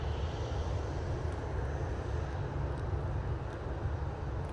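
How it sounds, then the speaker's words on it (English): An Aer Lingus A380 arriving from Dublin, heard as a steady, broad jet roar that holds constant throughout, distant and fairly quiet, with no voices. "There's an aircraft behind here, I can assure you"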